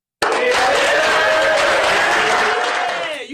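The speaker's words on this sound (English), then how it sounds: "You start clapping too there." Loud, dense applause and crowd noise swell suddenly and hold steady for a few seconds before easing, a broad roar of many hands and voices at a basketball-related live moment, with no clear speech.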